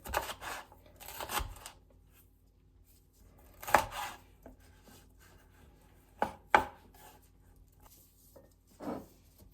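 Knife chopping sweet pepper on a cutting board for chicken soup, several bursts of quick crisp taps and a few single louder chops with quiet pauses between, close and alone.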